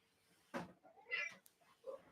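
A cat meows indoors on a rainy day, a couple of short close calls with a faint rustle between them against a quiet room.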